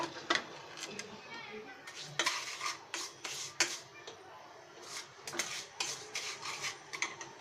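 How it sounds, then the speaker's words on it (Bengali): A spoon scrapes and rubs around a pan while chocolate semolina with cocoa is stirred, a rhythmic series of close rasping strokes repeating roughly every half second. "এখন আমরা নেড়ে নিব খুব ভালো মতো"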